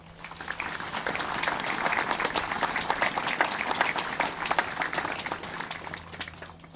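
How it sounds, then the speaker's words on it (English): A parade audience applauds a military band at a platoon march-out, steady dense clapping filling the whole stretch at moderate loudness from a large crowd nearby. "Please join me in a round of applause in appreciation of their efforts as well"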